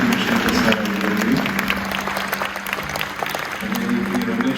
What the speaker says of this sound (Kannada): ಒಂದು ಜೋರಾದ ಚಪ್ಪಾಳೆ ನಾನು ಕೇಳಿ ಚಂದ್ರಶೇಖರ್ ಸರ್ ಅವರಲ್ಲಿ